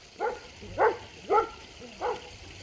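A pup barks at a vulture circling overhead on a small farm, giving four short yips spaced about half a second apart, moderately near and alone.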